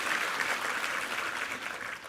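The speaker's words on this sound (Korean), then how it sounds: "한번 힘찬 감사와 격려의 박수 부탁합니다" Church congregation applauding during a Sunday worship service to thank a men's vocal ensemble, a steady, dense clapping that fills the whole short moment at moderate loudness with no talk over it.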